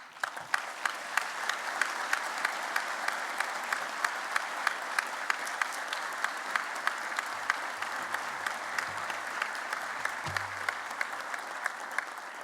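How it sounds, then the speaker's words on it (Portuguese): Steady, even applause fills a convention center auditorium at an awards ceremony, an audience clapping continuously and moderately close, with a faint low hum underneath. "peço à plateia que os consagre com uma salva de palmas"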